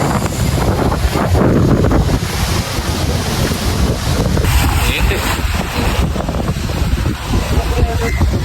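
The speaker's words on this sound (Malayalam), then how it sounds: "നല്ല കാറ്റ്." Strong gusts buffet the microphone outdoors at Hill Palace, a loud, continuous rumbling roar with shifting intensity throughout.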